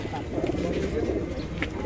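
Pigeons coo at a busy weekly pigeon market in Magura's New Market, with soft, repeated throaty cooing close by over a low crowd hum.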